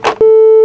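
A telephone busy tone follows a hung-up call: after a brief rustle, one loud, clean, steady beep sounds for about half a second.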